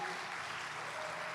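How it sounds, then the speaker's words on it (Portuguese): A church congregation applauds, a dense, steady wash of clapping from many hands that fills the short span without pause, fairly loud and even. "um aplauso ao Senhor aí bem forte, em nome de Jesus"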